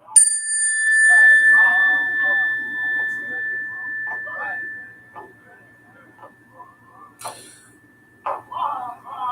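A meditation chime rings out clearly at the start and sustains a long, pure tone that slowly fades while a voice talks over it, followed by a second brief strike near the end.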